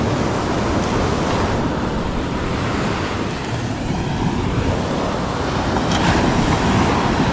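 Continuous surf and wind noise on the shore, a broad steady wash of waves breaking nearby with gusts hitting the microphone, no voices.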